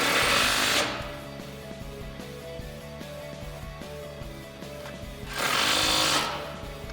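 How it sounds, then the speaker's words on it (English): Spacers on a 2016-2021 Toyota Tacoma suspension lift being tightened with a 17mm socket, a rapid buzzing impact-tool rattle running steadily, with louder whirring bursts at the start and near the end. "Then with a 17mm socket, tighten them down."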